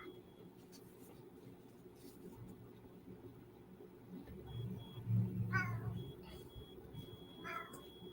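A cat meows twice, faint and somewhat distant, over a low steady background hum.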